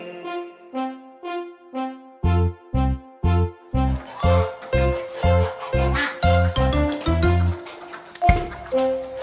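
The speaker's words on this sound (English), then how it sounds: "The ducks, they go a quack, quack, swimming round in rings." Sung duck quacks repeat in a steady rhythm within a bouncy kids' nursery-rhyme song, first over light tinkling backing and then over a thumping beat, loud and upfront.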